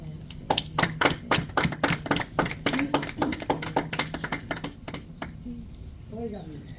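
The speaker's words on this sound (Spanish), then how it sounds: "Dar una aplauso a Cristo." Rhythmic hand clapping from a church congregation at a Bible study, a fast, steady run of sharp claps that stops near the end, with a voice heard underneath.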